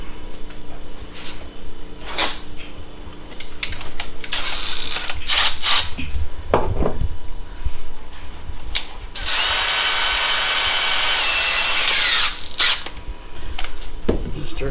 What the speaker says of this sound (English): We're gonna take our 1/8 of an inch drill bit.